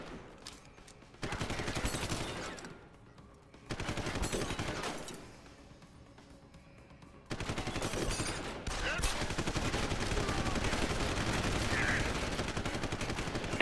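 Enemies trading gunfire in the video game Deus Ex: Human Revolution, with loud bursts of rapid automatic shots separated by short lulls, then turning into sustained continuous firing through the final seconds.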